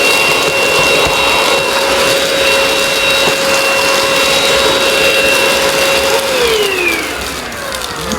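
A Eureka Rapid Clean Pro cordless vacuum cleaner running steadily with a loud, constant whine, its pitch dropping near the end as it slows.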